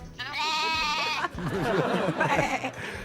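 A person imitates a goat with a loud, wavering bleat, followed by shaky, warbling bleats close up on a French game show set.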